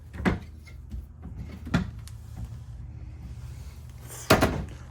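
Pull-out drawers in a 2024 Lacrosse 3375FE travel trailer are opened in three separate bursts of sliding and knocking, close and moderately loud, with a quiet interior between them.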